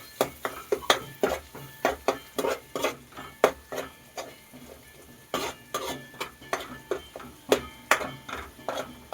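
Turmeric is stirred into a suran (yam) curry in a pan, with a spoon scraping and clacking against the metal in quick, even strokes, close up, alone and without talk.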